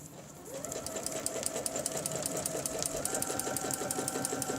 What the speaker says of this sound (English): So we're going to stitch along